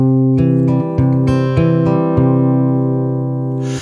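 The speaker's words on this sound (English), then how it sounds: "that's finger picking pattern number one" Acoustic guitar fingerpicking: a bass note followed by a steady run of plucked strings ringing together in a repeating pattern, played alone.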